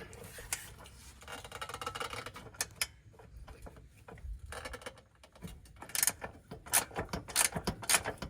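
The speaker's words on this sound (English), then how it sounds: "I love those ratchet style wrenches." A ratcheting gear wrench clicks while working on the radiator of a Toyota Celica GTS, with close, quiet bursts of rapid ticking separated by pauses and light handling noise.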